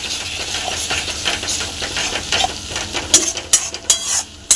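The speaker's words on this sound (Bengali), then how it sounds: "এবার এই পেস্টটাকে একটু ভালো করে মেশাতে হবে।" A chili, salt and turmeric paste is stirred in a pan, with a soft steady sizzle under scraping and several sharp clinks of a utensil against the metal, growing busier toward the end.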